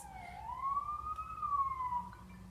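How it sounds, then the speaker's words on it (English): An ambulance siren wails past in a steady rising and falling tone, clear and fairly close, with low background rumble and no talk over it. "Ambulance."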